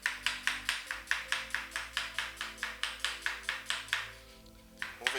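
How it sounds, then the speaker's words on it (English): A knife chops onions into chunks on a cutting board in a steady run of about sixteen crisp, evenly spaced strokes, close and clear, pausing briefly before one last chop. "I like having my onions chunky whenever I'm chopping."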